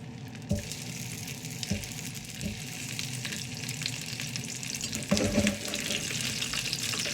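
Hot dogs sizzle and crackle steadily in olive oil in a hot frying pan, close up, with occasional clinks and scrapes as they are moved around.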